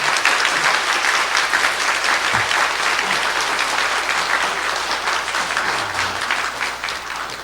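A church congregation claps in warm, continuous applause as the pastor comes forward, a dense even patter filling the room with no voices on top.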